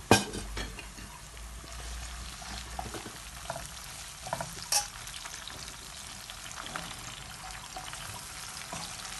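Onions fry in a pot for makayabu, Congolese salt fish, while being stirred, a continuous close crackling sizzle with scraping spoon strokes and a few sharper clinks, no talking.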